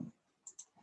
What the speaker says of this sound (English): I can click the right button